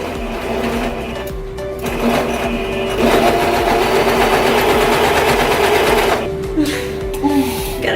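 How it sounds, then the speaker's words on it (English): A domestic sewing machine stitches fabric while a thrifted jacket is being hemmed, a steady loud mechanical whir that revs faster in the middle and then slows, with a few short bursts near the end. "We just hear how pissed off the sewing machine just got."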